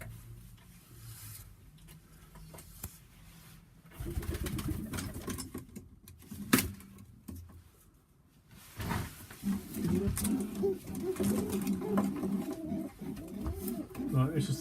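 A young Sheffield hen pigeon coos in low, soft bursts close by. The calls come in a couple of separate stretches, mixed with rustling and handling noises, and someone talks quietly between them.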